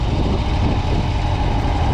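A car engine idles with a low, steady rumble throughout, close and constant with no voices, on a road near Vernon.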